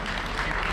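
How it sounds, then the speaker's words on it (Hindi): Hands clap in a dense, steady wash of applause, moderately loud and continuous from start to end, for a guest at a gathering for an RCM business health-product testimonial. "रिम्पी जी के लिए जोरदार तालियां"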